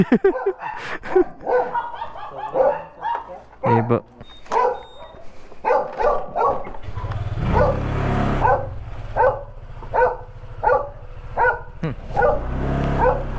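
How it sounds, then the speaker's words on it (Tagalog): Several dogs in a crowded Filipino residential neighborhood bark and yip in repeated bursts, fairly close, while a voice talks between and over the barking. "Dami palang aso dito sir no. Hinabol ako ng isa eh."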